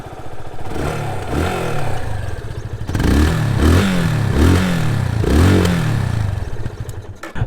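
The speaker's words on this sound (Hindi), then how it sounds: "सो अब एक काम करते हैं, इसका एग्जॉस्ट नोट सुन लेते हैं" Yamaha FZ 25 motorcycle with a 250 cc engine, idling with a low thrumming exhaust and then blipped through several sharp revs that rise and fall in quick succession, close and loud.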